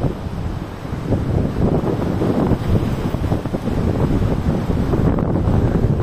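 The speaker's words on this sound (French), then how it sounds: "on est en pleine tempête, en plein vent" Storm-force wind in a very windy region roars and buffets the microphone without letup, a dense, rumbling rush that stays loud for the whole stretch.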